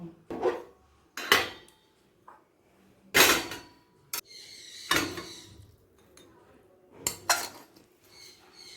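Cooked banana flower curry scooped from one pot into another, a series of separate metal clanks and scrapes of spoon against pot, sharp and close, spaced about a second apart with quiet gaps between.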